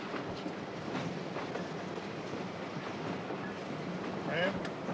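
A train rolling along its rails with a steady, continuous rumble and faint rhythmic rail clatter, fairly close, while a person speaks briefly over it.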